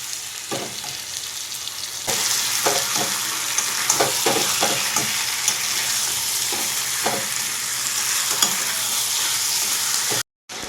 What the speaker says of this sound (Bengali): এবার এই চিকেনটা ভালো করে কষিয়ে নেওয়ার পালা